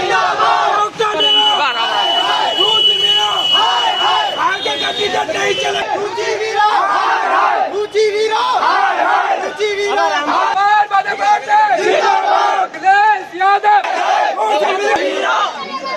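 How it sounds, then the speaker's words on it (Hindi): A large crowd of protesters chants slogans loudly and continuously against Ruchi Veera, a dense roar of many voices shouting together with steady rhythm throughout. "उनके समर्थकों ने रुचि वीरा के खिलाफ जोरदार नारेबाजी करते हुए उनका पुतला फूंका"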